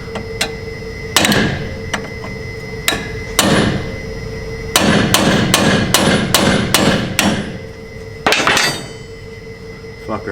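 Heavy hammer blows strike a seized toe adjustment bolt on a car's lateral control arm: single loud metallic whacks, then a rapid run of about eight hits, then another pair, all with ringing metal.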